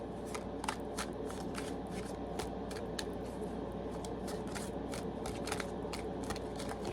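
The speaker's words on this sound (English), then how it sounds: "You saw me shuffle all that." Tarot cards are shuffled continuously and close by, a dense run of quick riffling snaps and soft slides that keeps a fairly even level throughout.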